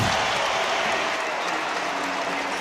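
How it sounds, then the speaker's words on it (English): A crowd at the Delta Center gives a round of applause, dense, even clapping that fills the arena at moderate level and holds steady, with no voice over it. "he just got a great round of applause from the crowd here at Delta Center"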